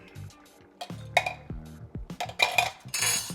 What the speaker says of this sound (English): I'm gonna stir this in.